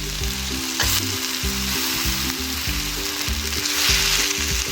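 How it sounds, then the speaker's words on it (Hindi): Green chilies and tomatoes added to browned onions sizzle loudly and continuously in a pan. A repeating low rhythmic tone runs underneath and no voices are heard. "इसमें अब शामिल करेंगे सब्ज़ मिर्च और टमाटर"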